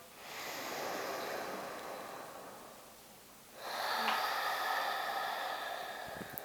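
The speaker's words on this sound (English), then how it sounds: "it's just creating a soft sound at the back of the throat, as if you were fogging up a mirror." Soft, airy Ujjayi breathing made at the back of the throat, one long hushing inhale followed by an equally long exhale, faint and close, with an ocean-like rushing quality and no talk.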